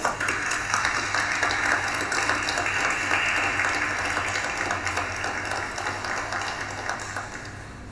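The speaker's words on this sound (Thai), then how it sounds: "ขอเสียงปรบมือต้อนรับคุณโทนี่เฉินครับ" An audience at a Chen family foundation charity art auction gives a steady, dense round of applause to welcome Tony Chen, holding loud and continuous before easing off slightly at the end.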